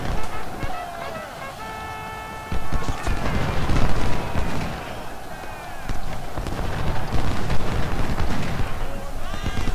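Artillery guns boom in the Ultimate General Civil War game at the Battle of Shiloh, with repeated heavy bursts of cannon fire rising and falling over a dense battle soundscape, mixed under a voice talking.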